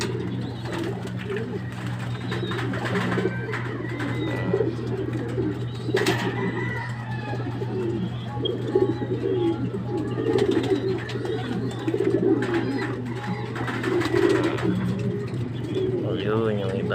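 Stock pigeons released for exercise flying about a loft, soft cooing and scattered bird calls over a constant low hum, with people talking in the background.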